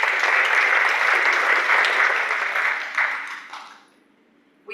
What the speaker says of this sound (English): Please give him a big round of applause as well.